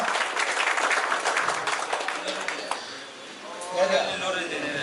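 A crowd applauds for Chetan at a prize distribution function for a Bangalore Girebaj pigeon tournament, with dense clapping that thins out midway and is followed by voices talking over the fading room.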